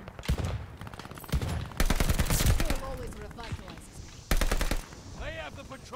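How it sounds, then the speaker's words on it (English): Gunfire in the shooter Call of Duty Vanguard comes in loud rapid automatic bursts that alternate with quieter stretches of game sound, including a few sharp whooshing effects. "There is a lot of gun shooting going on."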